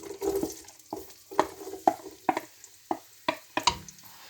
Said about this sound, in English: So we're going to put the onions in now, viewers, and the garlic.